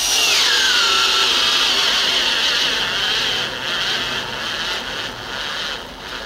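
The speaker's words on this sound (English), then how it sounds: "Let's get to drilling." A Makita electric auger whines loudly and continuously as it bores into wood in low gear, its pitch dipping slightly under load before steadying with grinding, chattering texture.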